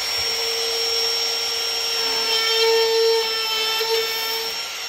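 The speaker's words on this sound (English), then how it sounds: "So I know my router spins this way, right hand, I'm gonna go that direction." A handheld wood router cuts and trims a wooden edge, giving a loud, steady, high-pitched motor whine with a rough cutting hiss that holds for the whole stretch, with no talking.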